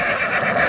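A horse whinnies loudly and close by in one short, rough, continuous neigh.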